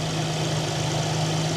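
Car engine idling steadily with a check-engine fault from a clogged purge valve solenoid, a constant low hum with a strong tone near the bottom, close and continuous with no talk.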